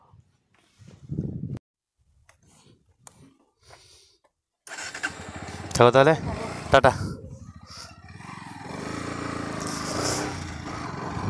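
A motorbike engine starts up after a few quiet words, catches with a sharp rev or two, then settles into a steady running drone as the rider sets off, with talking and a goodbye heard briefly at the start.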